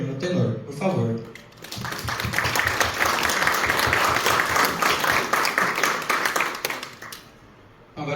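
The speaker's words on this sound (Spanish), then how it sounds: "eu vou pedir uma salva de palmas para o presidente emérito, o comendador Gilberto Fernando Tenor" Applause for the president emeritus at a numismatics heritage meeting, a dense, loud round of clapping that builds after a brief moment of talk and holds for several seconds before fading out.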